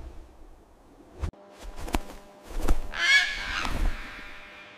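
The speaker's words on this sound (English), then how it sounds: "Oil birds navigate dark caves by producing echolocation sounds." Oilbirds call inside a dark cave, giving a few harsh, screechy squawks with clicking sounds before them, moderately loud and echoing against a quiet background.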